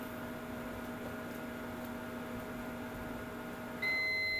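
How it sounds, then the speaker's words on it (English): A microwave oven finishing its cycle gives a sharp electronic beep near the end, rising clearly over a steady hum and background noise in a room. "The things in the micro will be done in about 7 seconds, guys. So if you hear a beeping,"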